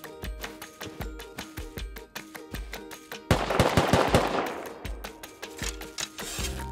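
Close gunfire in Rust, fired up into the air: rapid, evenly spaced shots ring out in a steady rhythm, then a denser, noisier burst follows before single shots resume.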